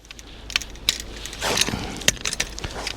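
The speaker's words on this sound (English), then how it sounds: "taking the saw blade in your hand, you're going to slide it through this little bolt through" A camping saw blade slides through a small bolt in the handle, giving close metallic clicks, scrapes and light rattling taps spread unevenly over a few seconds.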